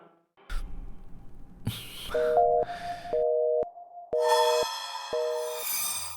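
A telephone busy signal pulsing in a steady on-off rhythm, about six short beeps in a row, loud and close after some faint rustling and breathing.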